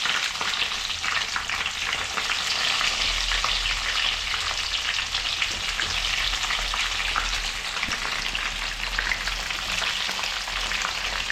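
Stuffed brinjals (gutti vankaya) frying in oil in a pan, giving a steady, loud, dense sizzle with a constant crackle that runs unbroken throughout, no voices.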